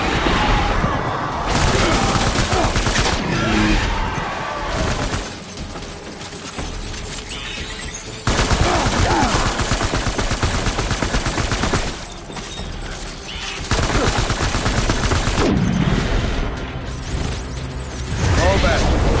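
Heavy gunfire in Death Stranding pours out in long dense bursts of rapid shots and booms, broken by a few short lulls, loud and close over a busy battle din.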